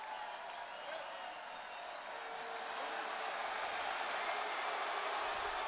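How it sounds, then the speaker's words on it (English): A WWE Raw wrestling arena crowd cheers as a broad, steady roar that swells gradually louder, distant and continuous. "You can hear the crowd."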